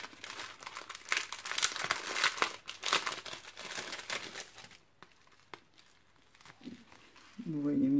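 Plastic packaging around a roll of gold glittery ribbon crinkles and rustles close by for several seconds, followed by quieter handling and a voice that begins speaking at the end.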